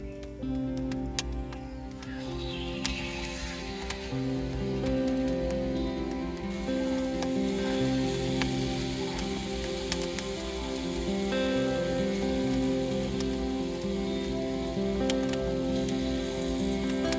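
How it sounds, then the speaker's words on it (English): Fish pieces frying skin side down in olive oil in a hot skillet, a steady crackling sizzle with fine popping ticks running continuously throughout, under a layer of soft background music. "Once the skillet is hot, add a drizzle of olive oil and carefully place fish cuts skin side down."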